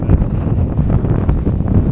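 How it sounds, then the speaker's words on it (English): Strong gusty wind buffets the microphone on a desert trail, a loud, close, continuous low rumble with no talking. "This wind is just nuts today."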